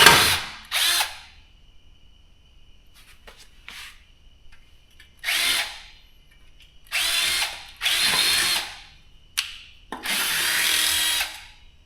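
A power drill bores out rivets on the frame of an EzGo TXT golf cart in a series of short whining bursts with pauses and small clicks between them, close by.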